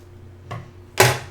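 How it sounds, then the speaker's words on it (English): Colored paper strips held tightly together are trimmed with scissors for a rainbow craft: one soft snip, then a louder, sharper crunching cut about half a second later, close by in a quiet room. "cut them a little thinner so that they all match"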